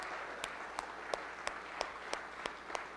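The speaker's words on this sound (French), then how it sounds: "Si vous le croyez, applaudissez le Seigneur" Applause fills a church as the congregation praises the Lord, a continuous clapping wash punctuated by about eight sharp, evenly spaced louder claps, no speech.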